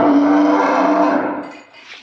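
A Sahiwal-Jersey cross heifer moos loudly and close by, one sustained, droning call that fades out toward the end, with no voices.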